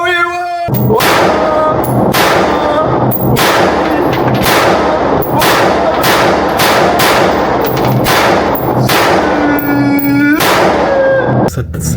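Rapid, loud firearm shots crack out one after another in a burst of closely spaced reports, echoing through a neighbourhood in Paraguay, with a brief tonal sound at the start and end.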